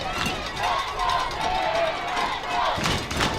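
A crowd of Bear fans at a youth football championship game, 11U, cheering and chanting steadily, filling the space with dense continuous noise and some vocal rises, fairly loud and sustained throughout.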